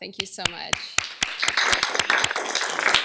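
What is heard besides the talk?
audience applause for student organizer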